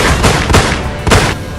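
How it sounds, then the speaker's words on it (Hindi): Rifle gunfire from a man on a rooftop in Narayanpur village, Tarapur, during a land dispute between brothers: a loud, close, rapid burst of several sharp shots in quick succession over constant background noise. "सुनाई दे रही है फायरिंग की आवाज।"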